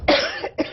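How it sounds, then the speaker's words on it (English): A single harsh cough burst followed by a shorter second cough, close and loud, from someone speaking in an interview. "get a coughing spell"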